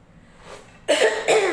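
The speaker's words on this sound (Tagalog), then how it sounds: "inuubo pa ako" A person coughs twice in quick succession, loud and close, while sick with a cough.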